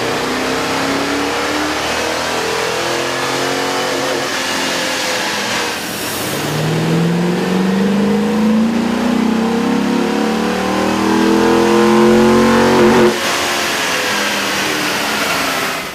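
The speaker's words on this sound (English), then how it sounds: "With the air intake installed, we ran the vehicle on the dyno to test the sound comparison versus the stock intake." A Chevy 1500 with a 5.0-liter engine and a K&N air intake revs steadily on a dyno, giving a loud, continuous engine drone whose pitch climbs over several seconds, then drops back to a steady level.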